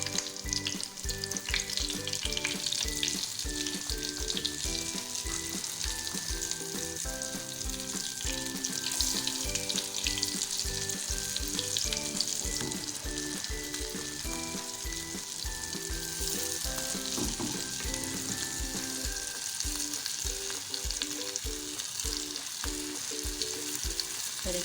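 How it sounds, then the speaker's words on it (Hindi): Shami kababs frying in oil in a pan, a loud, dense, continuous sizzle heard up close, with occasional flipping sounds and a faint musical tone underneath. "इस तरह से हम कबाब को डालेंगे और फ्राई कर लेंगे। अब हम इनको एक एक करके पलटेंगे।"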